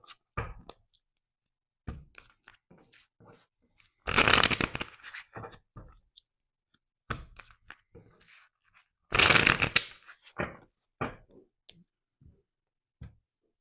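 Tarot cards shuffled in short riffling bursts, two louder extended riffles standing out among scattered soft clicks and taps, close and fairly quiet with no talking.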